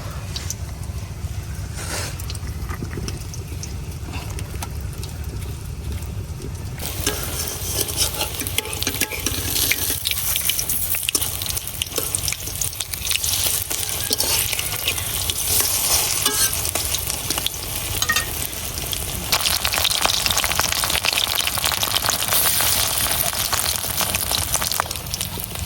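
Pumpkin flower fritters coated in lentil paste fry in hot oil, a steady close sizzle and bubbling running throughout that grows louder and brighter partway through, with no talking.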